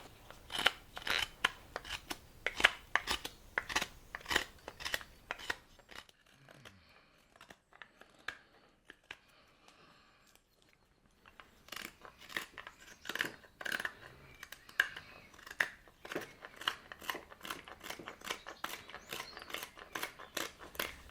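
Carving tool scrapes and cuts out the bowl of a wooden ladle made from firewood, close and alone: a brisk run of sharp rhythmic strokes, a quieter pause mid-way, then steady repeated cuts again.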